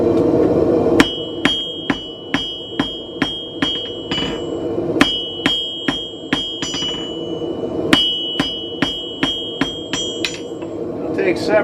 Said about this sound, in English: using a big hammer to start.